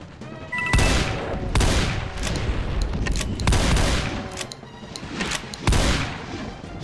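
Rapid bursts of gunfire from a shooter game boom out in repeated volleys, loud and close, with short gaps between salvos.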